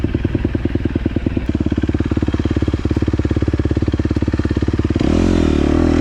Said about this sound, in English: When I start accelerating here again, I have a quick shifter on my bike